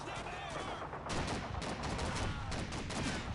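Continuous, dense machine-gun fire from a World War II battle at Normandy in the Call of Duty 2 game, rapid and loud throughout with no pauses.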